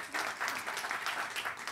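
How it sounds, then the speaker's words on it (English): Quiet, distant audience applause at a university system grants acknowledgment event, a brief patter of many hands rising and falling in waves. "You can clap for that"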